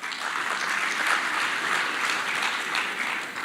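Audience applause at a matric top-achievers awards ceremony, a steady wash of many hands clapping, moderately distant and sustained without a break.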